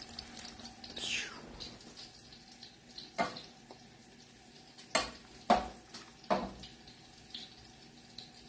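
Butter sizzles in a pan while it is stirred for a shrimp piccata lemon sauce, with a faint steady fry broken by several sharp scrapes and clacks of the utensil against the pan.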